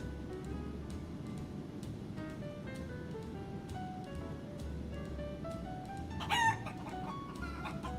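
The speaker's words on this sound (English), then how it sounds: "Pretty quick with the chicken sound" A rooster sound effect plays faintly behind a flight simulator live stream, with a brief sharper cluck or crow near the end over a steady low hum of background noise.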